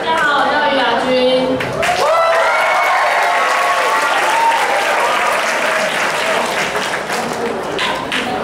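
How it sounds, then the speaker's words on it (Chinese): An audience at a tug-of-war friendly match applauds in a steady wash of clapping with some cheering, following a brief voice and tonal sound at the start, and it continues at an even level to the end. "热烈的掌声加尖叫，欢呼"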